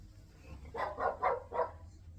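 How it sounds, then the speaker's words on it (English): A dog barking inside a hotel room at the Royal Bath Hotel in Bournemouth, four quick woofs in a tight burst, fairly close and moderately loud over a quiet room. "There's a fucking dog in my room."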